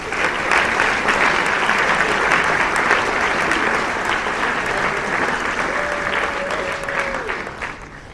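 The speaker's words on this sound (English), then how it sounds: "let's give them all a great round of applause" Warm, sustained audience applause at an annual benefit gala, steady and full for most of the stretch, tapering off at the end with some faint voices beneath.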